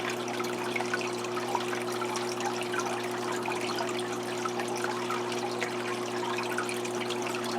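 An open-ended hose siphons water from a brackish aquarium, giving a steady close trickling and gurgling flow over a constant low hum, with no talking.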